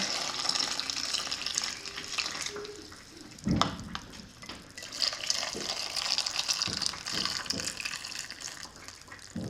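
Hot brine pours from a pot into glass jars packed with peppers, a steady close splashing and trickling stream with a brief heavier gush partway through and no talk.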